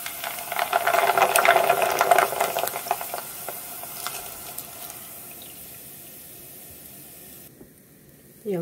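Hot oil in a frying pan while cooking vegan ham gives a loud, bright sizzling hiss at first, then gradually fades to a softer crackle before ending with a brief clunk.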